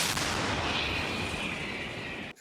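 A loud, sustained blast of gunfire with a harsh roar and a ringing whine, filling the whole clip before cutting off abruptly at the end.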